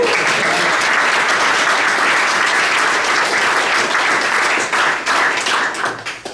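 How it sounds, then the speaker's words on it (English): A room full of people applauds Dan after his squat demonstration at a strength and conditioning presentation, with dense, steady clapping that holds for several seconds and thins out near the end. "I think it was a round of applause for Dan."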